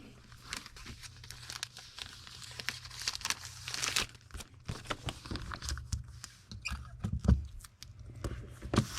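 Comic books are packed into an envelope, up close, with irregular rustling, crinkling and paper handling. The crackles are quiet and keep going without voices.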